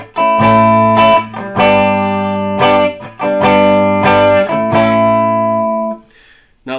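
An Epiphone Les Paul Standard Plus Top Pro electric guitar on the middle pickup setting with volume and tone fully up, playing loud, clean sustained chords that ring out in several strummed bursts before a brief fade at the end.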